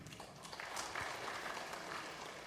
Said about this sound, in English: And then we're going to clap our hands.